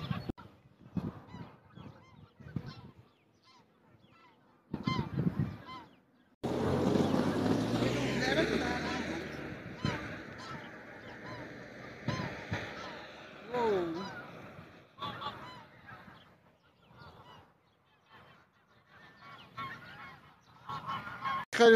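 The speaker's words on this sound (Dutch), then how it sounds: "Mooie ganzen bij de dijk." Geese honking by a dike on a fine day, repeated calls in bursts with one longer loud stretch of overlapping honks, heard alongside wind and occasional talk.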